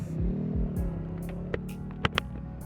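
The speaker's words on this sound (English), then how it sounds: "Is that a Ducati?" A Ducati motorcycle rolls past on the road, its engine note sliding downward as it goes by, then fading under faint wind and a few sharp clicks.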